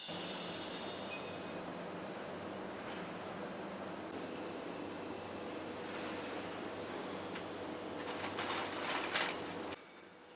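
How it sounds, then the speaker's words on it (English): Heavy industrial machinery cutting steel rods for massive chain production in a factory, a steady loud grinding and shearing roar with metallic squeal rising near the end, no talk. "That grinding, shearing tone is the sound of engineering beginning."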